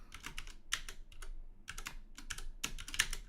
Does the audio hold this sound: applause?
no